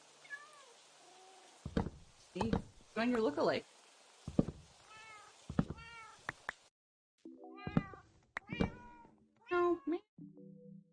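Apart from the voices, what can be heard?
cat meowing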